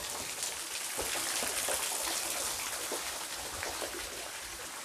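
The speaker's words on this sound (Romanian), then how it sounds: "Și aceasta este prima cascadă care acest râu apoi curge în prut." A waterfall on a small river in the Văratic gorge gives a continuous broadband rushing and splashing roar, steady and fairly close, with no voices.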